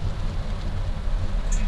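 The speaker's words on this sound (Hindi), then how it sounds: "देख सकते हो भाई कितनी भयंकर बारिश हो रही है" Heavy rain in Delhi heard from inside a car with wipers running at full speed, a steady dense wash of rain and road noise with a low rumble throughout.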